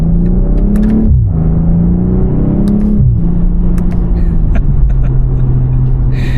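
A BMW M340i's engine revs hard and loud, climbing in pitch through two sweeping surges with brief dips between, then settling into a steady high drone.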